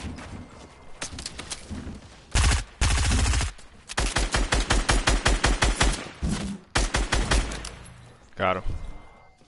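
Rapid bursts of gunfire from a Fortnite battle, loud, close and repeated in quick strings of shots separated by short pauses, with a few heavier blasts mixed in.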